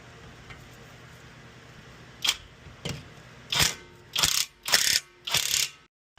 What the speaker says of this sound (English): Snug this up and then that gets torqued to 20 Newton meters.